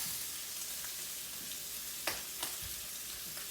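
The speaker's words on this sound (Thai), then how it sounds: "เขาเรียกว่าอะไรเบคอนนะคะทอดอยู่นะคะ" Bacon sizzles steadily in a frying pan as pizza is prepared, a constant broadband crackle with a few sharper pops standing out near the end, close and alone without voices.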